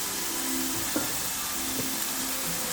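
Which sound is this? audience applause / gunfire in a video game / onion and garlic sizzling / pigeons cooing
onion and garlic sizzling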